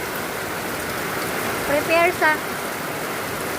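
Steady rain falls outdoors, a constant dense hiss from start to finish, while a voice speaks briefly partway through.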